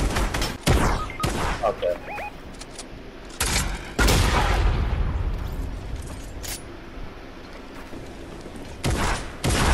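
Gunfire in a shooter game, sharp loud shots and bursts scattered irregularly, some with booming tails, alongside clicking mechanical effects and a brief spoken word.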